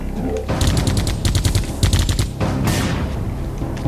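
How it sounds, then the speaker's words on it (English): Grenade blast and rapid gunfire from the video game Geist, with a dense run of loud shots and bursts through the middle, a brief roar like an explosion near the end, and continuous action noise throughout. "I know he threw one, but it just exploded right next to him"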